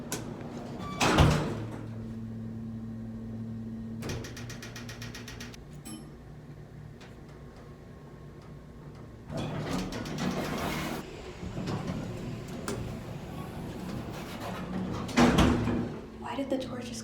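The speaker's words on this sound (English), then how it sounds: "Why did the door just close before I hit the button?" A door thuds shut near the start, followed later by further clunks and rattles of a closing or sliding door, with speech and room noise in between.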